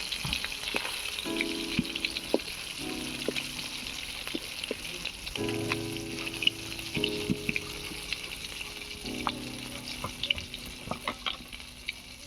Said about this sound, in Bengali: শিঙি মাছগুলো ভাজা হয়ে গিয়েছে এবারে তুলে নেব